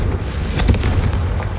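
A Confringo spell blast in the Hogwarts Legacy video game, a loud, rumbling fiery explosion with a deep boom swelling and decaying over about a second.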